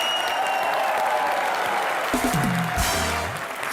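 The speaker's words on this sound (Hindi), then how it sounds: "जोरदार तालियां" Broad wash of applause from a TV comedy show studio audience, steady throughout, with a brief musical sting rising near the end.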